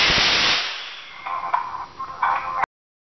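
Ninety-six electric matches fired in sequence within one second by a Merlock digital firing system, a sharp hissing burst followed by a fizzing crackle of pops that cuts off abruptly into silence.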